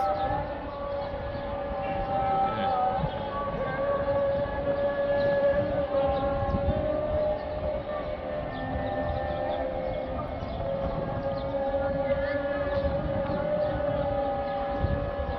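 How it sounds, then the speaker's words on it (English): Several distant Islamic calls to prayer from mosques around Giza at sunset overlap across the city, long sustained chanted tones drifting over a steady wash of background noise. "So you can hear all the azans"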